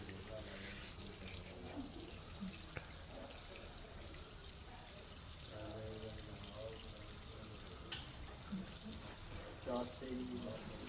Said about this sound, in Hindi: चारों वाल के अंदर से हम पानी निकाल देंगे।